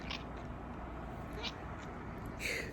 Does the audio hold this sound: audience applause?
no